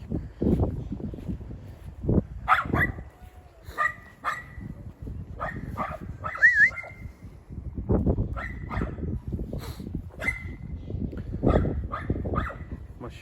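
A Kangal shepherd dog in Turkey whimpers and gives short yips and barks in repeated bursts, close up, over rustling and background noise.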